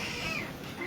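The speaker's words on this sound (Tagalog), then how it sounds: "May pumasok na pusa dito sa bahay." A brief, faint cat yowl from cats fighting indoors after a cat came into the house, heard in a single short burst.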